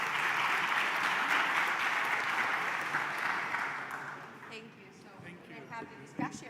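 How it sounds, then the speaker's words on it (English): Audience applause for the presenters fills a large conference hall at a science event, steady and dense, then thins out and fades over the last few seconds as scattered claps and murmuring voices remain. "A big applause to all the presenters today."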